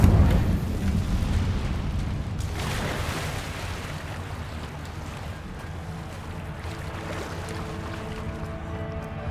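A fire spell is cast in the video game Hogwarts Legacy, opening with a heavy, rumbling whoosh that settles into a steady roar of flames. The fire is loud and sustained, and no one speaks over it.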